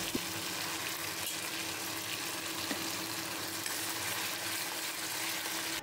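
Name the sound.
hilsa fish frying in a pan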